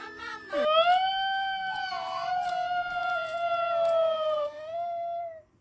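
A voice imitates a dog howling at night, one long rising and falling wail held for several seconds, close and fairly loud.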